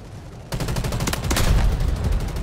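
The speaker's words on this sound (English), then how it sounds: "Artillery cover coming" Artillery strike in the shooter game Delta Force: Hawk Ops, a sudden loud onset of dense, rolling explosions and rapid booming blasts that continue without pause for about two seconds, with no voices over them.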